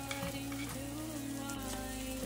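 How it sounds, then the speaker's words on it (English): Chicken stir fry with red chili pepper sizzles steadily in a pan, a dense, continuous frying crackle with faint stirring, close and even throughout. "And I'm also gonna stir for 30 seconds. Also gonna add my red chili pepper."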